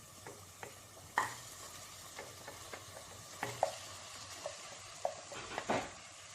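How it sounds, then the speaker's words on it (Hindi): Mutton tikka pieces drop into a tomato masala frying in a pan, making a quiet sizzle under a series of distinct spatula knocks and scrapes, close by and spaced irregularly. "अब हम इसमें मटन टिक्का डाल देते हैं।"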